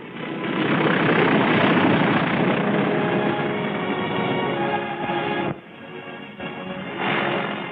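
A loud aircraft engine drones steadily as a 1944 plane lands at Tarawa, dipping briefly before swelling again, with a muffled, band-limited quality.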